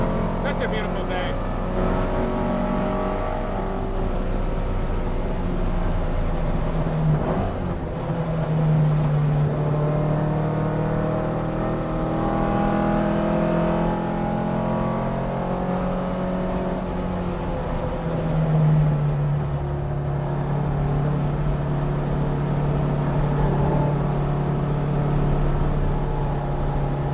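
A McLaren Speedtail drives on a race track, its engine a steady droning whir that rises and falls with acceleration and shifts, with someone talking over it throughout from inside the car.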